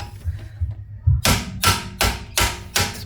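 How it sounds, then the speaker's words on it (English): Five loud, sharp hammer blows ring out at a steady rhythm, struck against the front axle of a 2013 Audi A5/A4 B8 2.0L turbo petrol during axle removal, close and alone. "I'm going to hit the axle in here."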